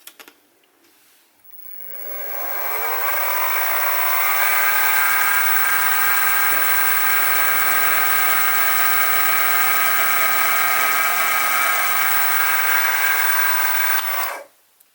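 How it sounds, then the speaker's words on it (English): A power drill whirs up to a steady high-pitched whine, its pitch dipping slightly as it bites into a crankshaft bearing part for a model steam engine, then cuts off after about twelve seconds. "So I'll just do a quick drill there."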